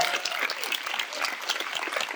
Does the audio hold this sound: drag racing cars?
no